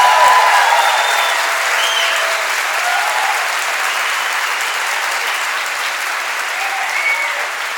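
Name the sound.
audience applause in church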